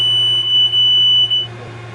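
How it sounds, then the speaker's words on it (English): A cargo tank overfill alarm emits a loud, steady high-pitched electronic tone above a low machinery drone, with brief dips before the tone cuts off near the end. "There must be audible and visual alarm indicators visible both on the cargo deck and where the transfer operation is controlled."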